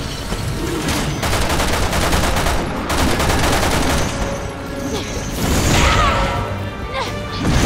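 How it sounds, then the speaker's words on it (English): Dense bursts of gunfire fill a firefight in Resident Evil 6, loud, close shots cracking in rapid clusters with crashes and impacts between them and no pause in the shooting. "Getting that triple shot."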